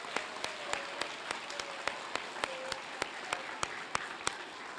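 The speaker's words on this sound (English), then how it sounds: "Let's give another round of applause for that achievement." An audience at the Shipley's Choice Blue Ribbon celebration applauds a school achievement, with a soft bed of crowd clapping under a steady, rhythmic run of crisp, close claps.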